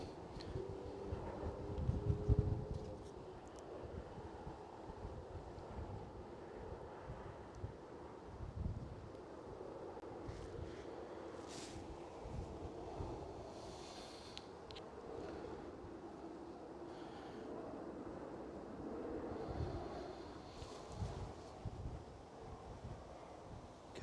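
Steady wind buffeting the microphone outdoors at Manchester Airport, a continuous low rumble with occasional gusts, fairly faint and without distinct aircraft or voices.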